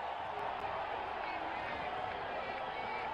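A cricket stadium crowd in a Chennai versus Punjab match keeps up a dense, steady roar of cheering and noise at a moderate distance.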